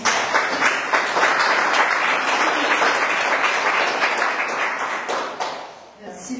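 Guests at an art exhibition opening applaud in a loud, sustained burst of many hands clapping that dips briefly near the end before picking up again.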